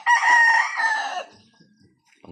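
A rooster crows loudly and close, one long harsh crow lasting about a second, then quiet with faint rustling and a brief sound at the end.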